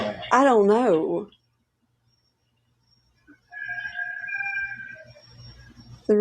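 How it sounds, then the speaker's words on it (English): A rooster crows somewhat distant on a farm with a dog nearby, a drawn-out call with a rising and held tone, coming after a stretch of quiet, with a person's voice heard just before. "The rooster's not too happy."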